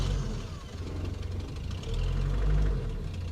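A 1950s Standard Vanguard Phase 2 engine churns and catches, its low rumble swelling as it is given gas, steady and close with no talk.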